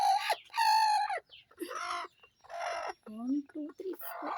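Hens clucking and fussing beside newly hatched chicks on a small farm, with loud close calls in irregular bursts and brief pauses between them.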